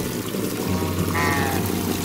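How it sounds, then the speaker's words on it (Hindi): Fresh water pours into a tub for pet ducks, a brief close splashing stream heard on its own. "रोज़ाना इन्हें मैं सुबह सुबह जी ताज़ा पानी डालता हूँ"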